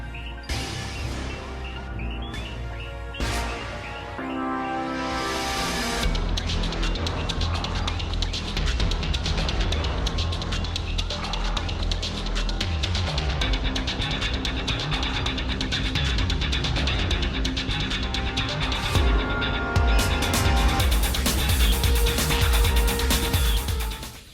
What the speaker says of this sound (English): And the Battle Out of Hell music sounds like this.